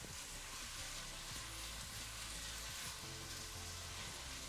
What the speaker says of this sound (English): And now I'm going to add my garlic.